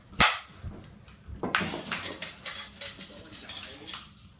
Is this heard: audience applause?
no